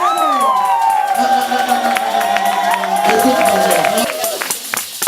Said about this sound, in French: Est-ce qu'on peut célébrer la résurrection du Seigneur par les acclamations et des cris de joie?